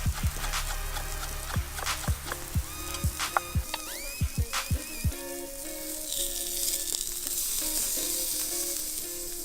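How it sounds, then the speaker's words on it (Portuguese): Lamb meat over a campfire grill sizzles and pops, with a run of sharp, separate crackles early on that gives way to a steadier, fainter hiss. "Agora eu vou colocar a carne direto na grelha sobre o fogo."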